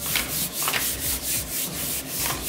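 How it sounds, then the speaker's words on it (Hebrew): A sheet of paper rubbed firmly back and forth over grip tape on a stunt scooter deck, making a steady rhythmic sandpaper-like scraping with about six strokes, close and continuous, with no voices. "אחרי שהדבקתם אפשר להשתמש בדף ובעצם להדק את המדבקה"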